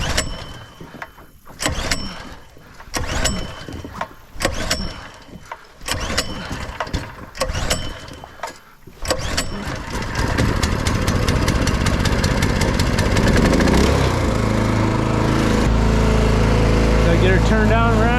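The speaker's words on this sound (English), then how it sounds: "Now the real question here is the motor going to start?" A small boat's outboard motor tries to start on the water with several short pulls and bursts, then catches and settles into a loud, steady, close idle, with someone talking early on.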